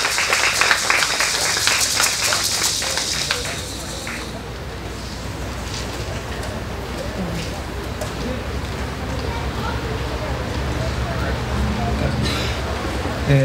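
At an indigenous rights panel conference, the audience applauds a newly introduced speaker with a few seconds of bright clapping that fades into room murmur and voices talking.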